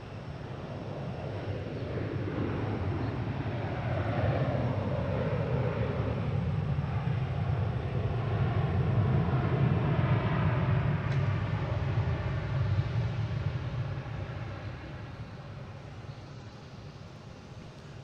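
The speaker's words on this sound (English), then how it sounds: "we have a FedEx immediately landing" FedEx cargo plane landing at Boston Logan International Airport, a broad steady jet roar with low rumble that swells to a peak midway and then eases, heard from outside with some wind buffeting the microphone.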